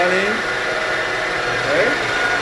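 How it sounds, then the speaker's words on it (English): A CNC spindle on an Acorn-controlled machine, driven by a VFD, runs with a steady, fairly loud whirring hum that holds even throughout, with faint tonal sweeps rising over it. "Okay, cycle start. All right, spindle running."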